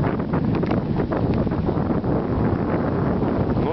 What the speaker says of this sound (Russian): Плюс ветер бьет сейчас, волна вот видно какая.